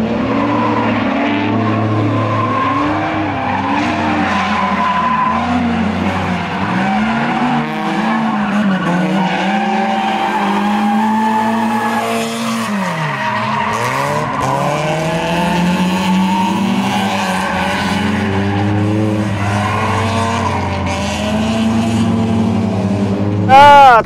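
Toyota AE86 drifting, a loud engine revving and falling under continuous shrieking tire squeal that rises and swoops through repeated slides, with occasional speech.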